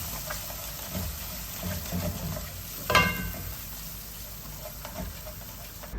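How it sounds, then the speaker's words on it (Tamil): Ground garlic chutney paste is stirred into hot oil in a pan for a South Indian side dish, giving a steady close sizzle with scraping spoon strokes and one louder clatter midway. "சேர்த்துட்டு இந்த எண்ணெயில் நல்லா அதை கலக்கி விடுங்க"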